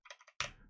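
Quick keystrokes on a computer keyboard sound as four or five light clicks in a row, then one louder press, close by and clear with no voices.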